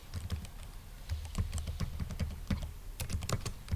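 Fingers tap quickly on a computer keyboard while entering text in Microsoft Word, giving close, crisp, irregular clicks in a continuous stream with no talking.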